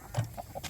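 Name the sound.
chicken clucking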